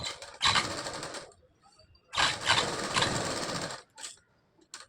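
Sewing machine stitching a sweetheart neckline on fabric, running in two long loud bursts with a pause between, then a few short stitches.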